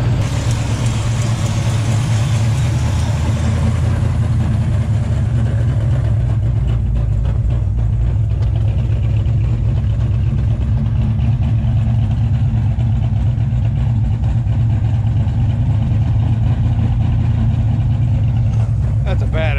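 A 1968-1969 Dodge Charger V8 idles steadily and loudly nearby, a deep rumbling burble holding an even, continuous rhythm throughout.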